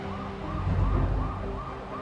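A police car siren wailing during a street chase, repeating rising and falling sweeps over low traffic rumble, fairly loud and steady, no talk.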